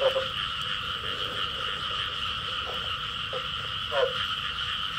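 Frogs croaking outdoors at night in rural southern Vietnam, a chorus of repeated croaks over a constant insect-like drone, with a few louder calls standing out near the start and around four seconds.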